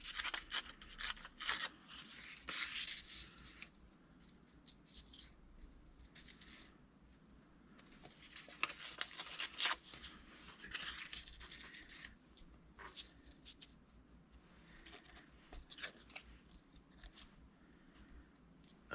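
Paper or fabric strips are torn by hand for a nature journal craft, giving quiet, close tearing and rustling bursts in irregular clusters, with soft handling noises between them.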